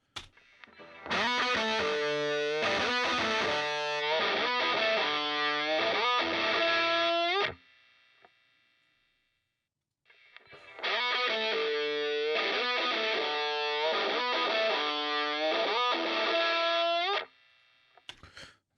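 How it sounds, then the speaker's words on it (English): Heavily processed feedback-style effect in a music mix, two long loud bursts of dense distorted pulsing tones, each lasting several seconds, separated by a short near-silent gap. "So this is kind of like a feedback effects type of thing."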